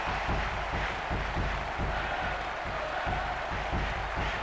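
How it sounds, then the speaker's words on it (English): A steady wash of stadium crowd noise from the football video game ISS 98, dense roaring and cheering that holds at a constant level throughout. "What a noise. Listen to the crowd."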